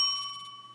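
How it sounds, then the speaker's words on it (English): A single small bell rings once, close and clear, its bright metallic tone decaying quickly into quiet. "get to ring the bell"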